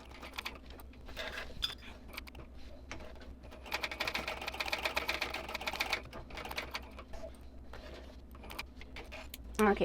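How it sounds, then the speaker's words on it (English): A sewing machine stitching all the way around a handbag, its rapid mechanical needle rattle running in bursts, quiet and close, with short pauses between runs and no speech. "I'm just going to sew all the way around."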